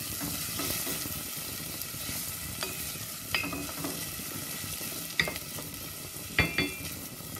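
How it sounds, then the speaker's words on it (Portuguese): Chopped onion sautés in a pan for meat croquettes, a continuous close sizzle with repeated scraping and stirring clinks of a utensil against the pan. "Vou juntar a cebola picada, vou saltear um pouco durante mais ou menos 2 minutos."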